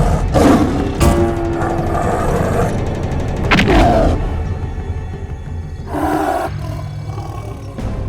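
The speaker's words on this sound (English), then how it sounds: "A huge tiger pounced on Bhim." A huge tiger roaring in a jungle full of wild animals: loud, rough bursts of roaring, several repeated blasts with brief pauses between them, close and powerful.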